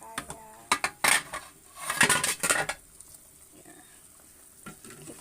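Meat boiled for stock is lifted out and drained from a pot with metal utensils, making bursts of clinks, scrapes and clatters. Quieter dripping and occasional taps follow, close by, with no speech.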